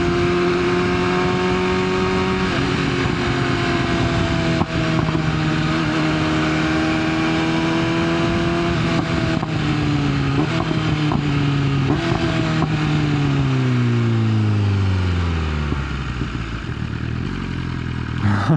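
A BMW S1000 motorcycle engine runs steadily and loudly while riding, its pitch rising and falling through revs before dropping off sharply near the end.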